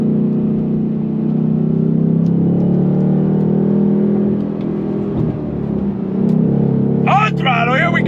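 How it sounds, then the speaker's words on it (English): A 2025 Ford Mustang GT V8 with Ford Performance exhaust holds a deep, steady engine drone from inside the cabin, with speech over the top near the end. "that Ford Performance exhaust lets you hear the performance"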